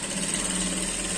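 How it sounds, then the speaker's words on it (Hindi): A sewing machine stitches a pant belt, giving a steady, close mechanical whir with a fine rapid rhythm and no pauses over the short stretch. "और इस तरह से हम इसकी सिलाई लगा देंगे"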